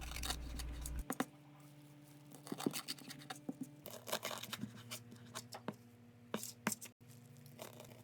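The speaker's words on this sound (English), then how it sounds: "Now just simply chop your cilantro" A knife chops fresh cilantro on a cutting board: quiet, close, irregular taps and scratchy strokes in quick clusters, alone without talk.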